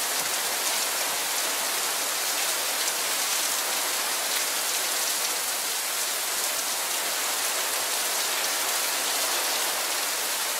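Heavy afternoon monsoon thunderstorm rain pours in Tucson, Arizona, a dense, loud, unbroken hiss of drops hitting surfaces close by.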